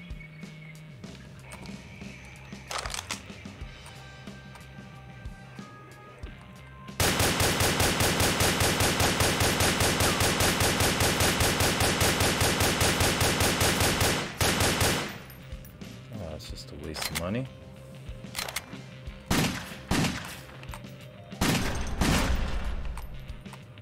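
SMG fire in the PlayStation 3 game Wet, a long unbroken automatic burst of fast, evenly spaced shots lasting several seconds, framed by scattered single shots and impacts before and after.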